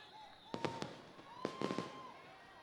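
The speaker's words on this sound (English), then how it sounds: "a lot of fans have shifted their priority to the fireworks being launched here at Henderson Lake" Fireworks are launched over Henderson Lake during an evening baseball game, giving two clusters of sharp cracking bursts, moderately distant, over a quiet outdoor background with no speech.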